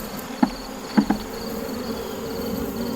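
Honeybees hum steadily around a red hive that has just been opened for inspection, a continuous close buzz with a few louder thumps and knocks near the start.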